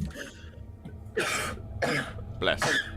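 A few sharp coughs come in quick bursts near the mic during a tabletop role-playing game session, with people talking before and between them.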